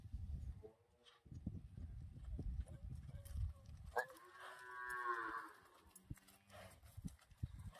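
A Khillar cow, a native Maharashtra breed, lets out one long drawn-out moo near the middle, after a stretch of close rustling and thudding movement.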